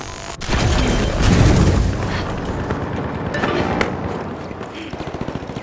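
A frag grenade goes off in the arena shooter The Finals: a sharp pop, then a loud, deep rolling blast, followed by scattered gunfire and clattering debris that fade into rapid crackles.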